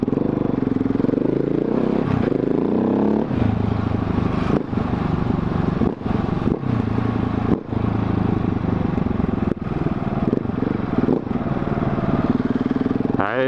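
Supermoto motorcycle with BWS wheels being ridden, its loud engine droning and revving steadily throughout with metallic rattling and clattering, close to the rider and nearly continuous, with brief dips in the roar.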